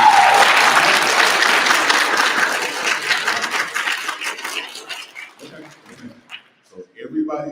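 An audience at a pop culture expo panel claps loudly at once, a dense burst of applause that gradually thins into scattered claps and fades to near quiet by the end.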